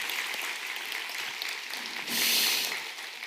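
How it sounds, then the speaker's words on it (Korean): A church congregation at a Sunday worship service applauds in a soft, steady wash of clapping that swells briefly louder near the end. "우리 하나님께 감사와 영광의 박수 올려드리겠습니다."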